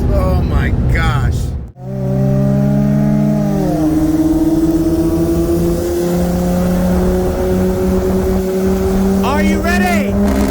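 A built 2020 Audi RS3 with an IMS850S turbo kit on E85 revs hard while racing a 2017 Porsche 911 Turbo, engine note climbing steadily and loud after a brief shift cut, with wind roar throughout and a voice speaking briefly.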